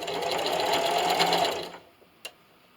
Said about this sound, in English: So I'm going to back stitch at the beginning.